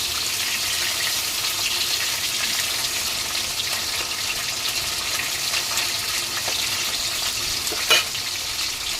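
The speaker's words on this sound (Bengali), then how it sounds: "এবার মাছগুলো ভাজা হয়ে গেছে নামিয়ে নিই" Tilapia fish frying in hot oil in a wok gives off a loud, steady, close sizzle that runs unbroken, with one brief clink near the end.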